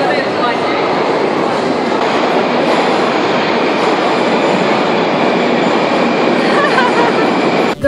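A Moscow metro train at Ploshchad Revolyutsii station rumbles loudly and steadily close by, its wheels and carriages roaring continuously with a faint clatter throughout.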